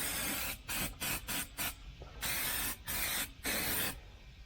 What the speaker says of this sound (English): I got some weld through primer. And we'll spray a little of that